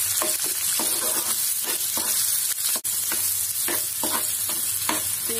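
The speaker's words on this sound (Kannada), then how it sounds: "ಇವಾಗ ಎಲ್ಲ ಚೆನ್ನಾಗಿ ಫ್ರೈ ಮಾಡ್ಕೊಳ್ಳಿ." Onions and curry leaves fry in oil in a pan for a North Karnataka-style beans palya, a close steady sizzle with repeated scraping stir strokes, no talking.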